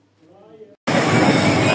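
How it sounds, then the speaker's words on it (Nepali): A loud, steady rumbling roar of a freight train starts abruptly after a brief stretch of faint voices, filling the rest of the clip at close range. "ट्रेन आइरहेको छ"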